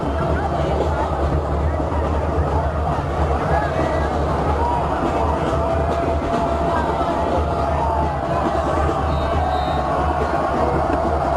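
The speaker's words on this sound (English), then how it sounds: "Crowd beginning to lose their voices." Crowd noise at a windy high school football game between Notre Dame Academy and De Pere, a dense, steady roar of voices and stadium hubbub sustained throughout, with distant cheering blending into the broad wash.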